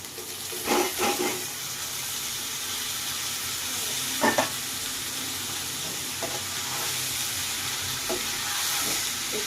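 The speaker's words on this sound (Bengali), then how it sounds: "এখন নেড়েচেড়ে মিক্স করে নেবো" Bitter gourd stir-fried in a pan gives a steady close sizzle and hiss of frying, broken by a few short scraping stirs of the spoon against the pan.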